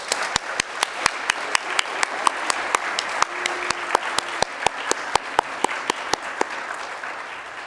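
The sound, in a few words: congregation applause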